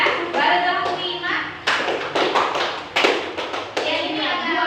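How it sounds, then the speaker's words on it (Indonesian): A group claps hands together in a counting clap game, with several sharp unison claps spaced irregularly over a steady background of children's voices and chatter. "Tepuk 1, tepuk 2, tepuk 3, tepuk 4."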